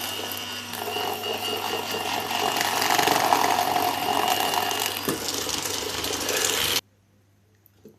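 An electric hand mixer whisks sugar and eggs for a quick cookie batter, giving a steady, close whirring hum for about seven seconds before it abruptly switches off into near silence.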